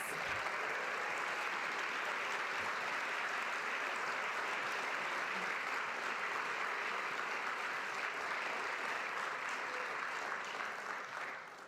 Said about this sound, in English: Give him a big, warm round of applause.